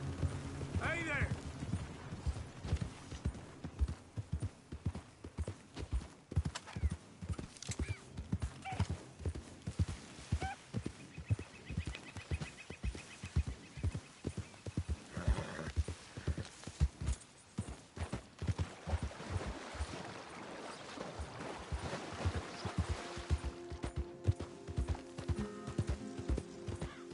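Horse hooves clip-clopping in a PS4 video game, a long run of rhythmic hoof beats with occasional neighing, game music and hum underneath and a voice talking at times.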